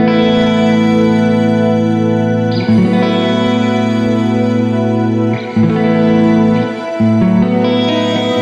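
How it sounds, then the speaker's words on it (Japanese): A guitar runs through a Strymon Cloudburst shimmer reverb set to add an octave up, sustained chords swelling into a bright, layered wash that changes at a few chord shifts, loud and close with no voices. "これに例えば1オクターブ上が足される設定でシマーリバーブオンにすると"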